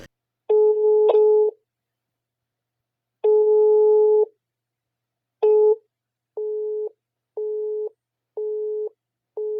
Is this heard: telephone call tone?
yes